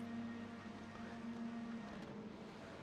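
A TCR touring car engine in the iRacing sim at Road Atlanta holds a steady, droning tone as the revs build, alone and fairly quiet.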